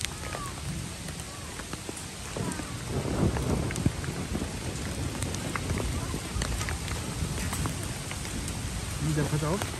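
Rain and hail pour down hard during a mountain thunderstorm on a hiking trail, a constant dense hiss with rumbling thunder underneath and voices talking nearby.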